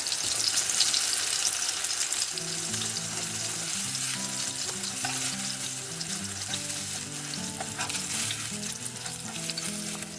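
Goan mackerel (bangda) fish cutlets frying in a pan, a steady close crackling sizzle that holds for the whole stretch while a soft tonal melody plays underneath.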